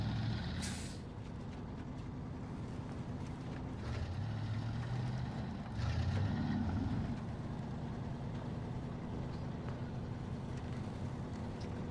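A heavy truck grinds slowly through rough terrain in SnowRunner with all wheels driven and the differential locked, a low, steady engine rumble with a sharp hiss near the start and a few clunks.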